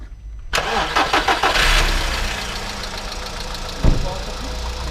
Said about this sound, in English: So now we can just go ahead and start the car.